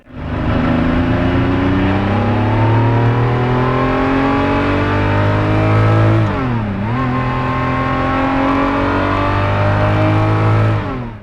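A 1995 Ferrari F50 engine drones loudly and close while the car is driven, its pitch climbing steadily, dipping sharply at a gear change about two-thirds of the way through, then climbing again.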